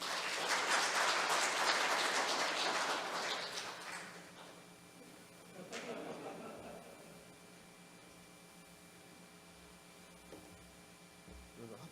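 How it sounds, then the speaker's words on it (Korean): An audience at an academic spring conference on the Jeju real estate market bursts into applause that is fairly loud for about four seconds, then fades into room hum with a few faint scattered claps. "이호진 교수님께 큰 박수 부탁드리겠습니다."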